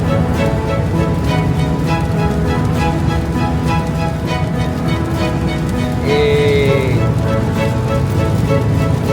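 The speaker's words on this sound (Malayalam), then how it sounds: "മഴയൊക്കെ പെയ്യാൻ തുടങ്ങിയത്" Steady rain falling in Canada, a dense continuous hiss with a low rumble underneath and a brief tonal whine partway through.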